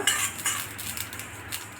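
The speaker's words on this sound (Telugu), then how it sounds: "ఆవాలు 2 స్పూన్లు వేస్తున్నాను. ఇవి వేగాలి, చిట్టుపట్లాడాలి బాగా." Mustard seeds roasting with fenugreek in a pan for amla pickle, heard as a brief run of close, crackly pops and light spoon scrapes against metal, with no speech.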